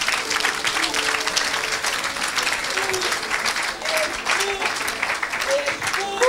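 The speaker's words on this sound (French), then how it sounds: "Acclamez pour Jésus." A crowd claps steadily and loudly throughout at a church gathering, the applause dense and continuous with cheers and voices mixed in.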